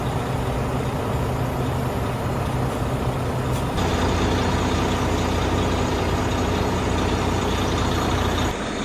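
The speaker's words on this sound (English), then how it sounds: "we need to get the Volvo hooked up to the trailer" A Volvo truck idles loud and steady while being hooked up to a trailer, its engine rumbling throughout, with a brief hiss near the start and a shift in tone partway through.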